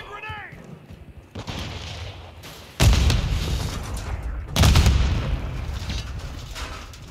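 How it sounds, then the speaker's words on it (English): Grenade blasts in the Call of Duty Modern Warfare 2 multiplayer game: two loud booming explosions a couple of seconds apart amid background gunfire, with a player's voice heard. "Throwing grenade!"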